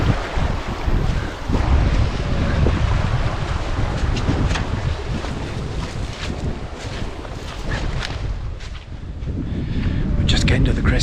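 Wind buffets the microphone on an outdoor hillside, a heavy low rumbling gust that swells and eases, with a lighter lull in the middle and rustling detail over it.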